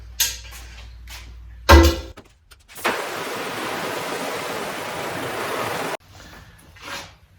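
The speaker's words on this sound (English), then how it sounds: "We're now just going to go ahead and rinse these out, and we'll do that right over here at the washout booth" A hose rinses screen-printing screens at a washout booth, giving a steady, loud spray hiss for about three seconds after some clunks and handling noises, then cutting off abruptly.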